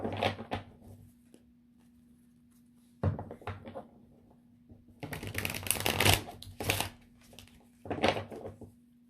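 A loud deck of tarot cards is shuffled in bursts of clattering, snapping card noise, close and sharp, with short pauses between rounds and no talk over it.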